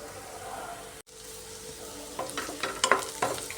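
Onions frying in a pan while spinach is prepared, a low steady sizzle with clinks and stirring scrapes growing busier toward the end.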